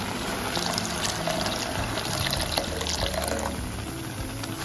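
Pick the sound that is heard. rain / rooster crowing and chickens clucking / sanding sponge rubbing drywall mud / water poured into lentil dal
water poured into lentil dal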